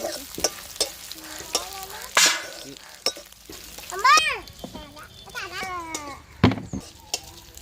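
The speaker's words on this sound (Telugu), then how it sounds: "ఫ్రై అయినాయి కదండి" Fish crackling and sizzling in hot oil, with sharp pops now and then, under a person talking throughout.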